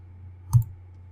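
A single computer mouse click on an Edit Subject button in the Bugwood content management software, one short sharp tick standing alone against a faint low background hum.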